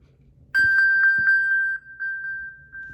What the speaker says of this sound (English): the phone automatically pings so you can find it.